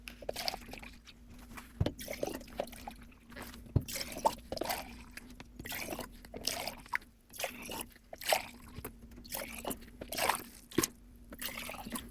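Tap water poured into mason jars for dye mixing, faint trickling and splashing with scattered drips and sloshes under a low hum, close by and quiet.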